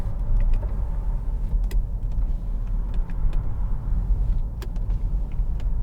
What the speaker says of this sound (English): Electric window switches here, which